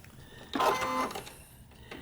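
A sewing machine stitching along a drawn line on a paper-pieced quilt block, making one short burst of fast mechanical whirring and needle chatter, close and clear, then dropping back to quiet room noise.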